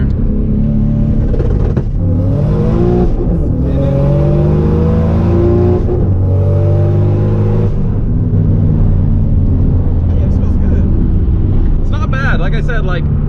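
A race car rated around 730 horsepower accelerating hard with its wheels spinning, the loud engine note climbing repeatedly through gears, heard from inside the car with people talking over it.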